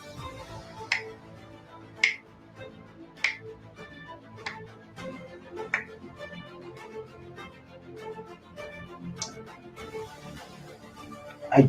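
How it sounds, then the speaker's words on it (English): Finger snaps during a live interactive card game, a series of sharp, isolated clicks spaced about a second apart over a soft tonal background, with no talking. "Move as many times as I snap my fingers"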